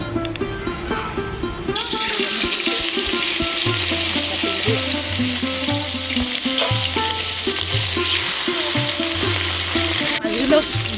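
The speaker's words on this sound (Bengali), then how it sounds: "এখন তেল দিয়ে মাছের মাথাটা হালকা তেল দিয়ে ভেজে নেব" Fish heads fry in oil for a kochu shak and fish-head dish, hissing loudly after a brief quieter opening and holding a dense, steady sizzle with a repeating low pulsing underneath throughout.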